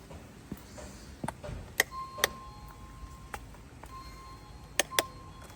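An electronic doorbell at a house unit rings twice, a few seconds apart, each a clear sustained chime over quiet room background with a few soft knocks.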